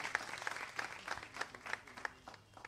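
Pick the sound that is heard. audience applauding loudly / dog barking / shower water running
audience applauding loudly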